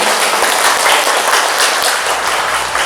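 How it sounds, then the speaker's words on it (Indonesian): An audience at a parenting seminar in Bandung breaks into dense, sustained applause, many hands clapping together at close range for a few seconds. "Beri tepuk tangan yang meriah."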